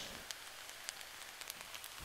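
Dolsot Bibimbap frying in a hot stone bowl, a faint, steady crackling sizzle with scattered tiny pops, heard up close and alone.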